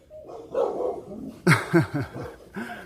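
Dogs let out a few quick barks and yips near the start and middle, close and fairly loud, followed by a whimpering tail.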